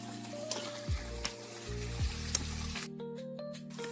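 Mathri pastries bubbling in hot oil give a steady sizzle, close and fairly quiet, with no voices.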